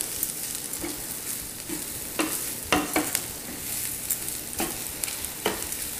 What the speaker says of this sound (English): Keep it moving around the pan so that the garlic and the rice don't burn